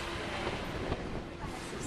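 Steady broadband rumble of a Disneyland parking-lot tram in motion, with wind buffeting the microphone and no clear voices.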